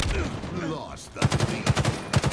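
Rapid automatic gunfire in the video game Halo Infinite, clustered bursts of sharp shots in quick rhythmic groups in the second half, following a stretch of softer game noise and sound effects.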